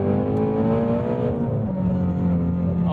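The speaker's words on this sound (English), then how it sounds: "The sound of the engine on those blips" A 2018 Ford Mustang Shelby GT350R engine blipping its throttle, a loud close steady growl with rising and falling harmonic tones, heard alone.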